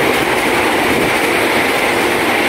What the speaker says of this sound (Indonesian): Jadi kereta apinya simpangan ya.